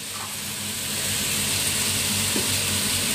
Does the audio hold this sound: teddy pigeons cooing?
no